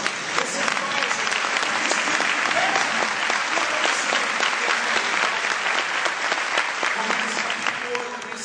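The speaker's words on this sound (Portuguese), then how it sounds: "Dê um aplauso ao Espírito Santo." A church congregation applauds during a family seminar sermon: dense, loud, continuous clapping from many hands that fills the whole stretch and fades only slightly at the end.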